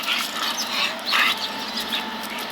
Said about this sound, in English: Because there's a big dog up there.